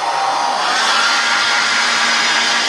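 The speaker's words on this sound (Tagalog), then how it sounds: "Mag-blower muna tayo." A hair dryer blows hair in a steady, loud, continuous whoosh with a faint motor hum, running alone without pause.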